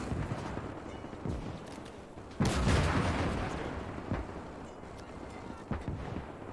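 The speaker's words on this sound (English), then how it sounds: "Artillery shell landed there." Artillery shells landing in the Winter War real-time strategy game Call to Arms - Gates of Hell, with scattered distant thumps and one louder, broad blast midway that rumbles and fades slowly.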